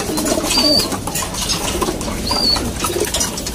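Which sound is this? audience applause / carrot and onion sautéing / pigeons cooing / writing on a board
pigeons cooing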